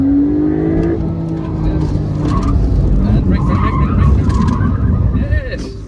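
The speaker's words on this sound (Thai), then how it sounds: "เคสแบบนี้เป็นการทดลองเพื่อเวลาที่เกิดมีอะไรตัดหน้าแบบฉุกเฉินเราจะสามารถหักหลบและยังควบคุมรถได้นั่นเอง" A Porsche swerves hard and brakes through an emergency avoidance test at a Porsche World roadshow, engine noise and tire scrub running loud and continuous, with someone talking over it throughout.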